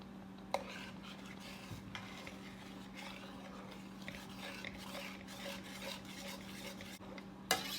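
Spoon stirring chicken soup into a thick chicken pot pie mixture in a pot, a steady soft scraping and swishing with light clinks against the pan, quiet and continuous with no talk.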